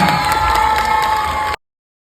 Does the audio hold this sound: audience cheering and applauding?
yes